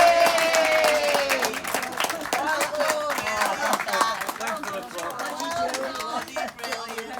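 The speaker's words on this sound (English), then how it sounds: "please give the best mum and dad, nan and granddad, and generally a great couple we can all learn a lot from, a massive round of applause" A gathered crowd applauds an anniversary couple at a 60th wedding anniversary ceremony, dense clapping mixed with cheers and chatter that holds steady and fades slightly near the end.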